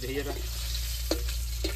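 Fish sizzles steadily in hot oil in a home kitchen, a continuous close frying hiss with a few sharper crackles, while a voice speaks briefly over it.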